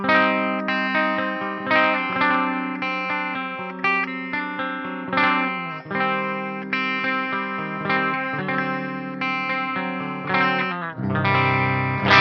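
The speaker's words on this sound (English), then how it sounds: "let's go to a clean channel so you can hear the pickups" Clean electric guitar on the bridge pickup of a cheap Ibanez metal guitar, bright and punchy, strumming steady chords with some effect shimmer, loud and up close with no talking.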